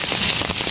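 Light rain falling over rice fields in a remote misty village, a brief, steady spatter of drops on surfaces heard alone.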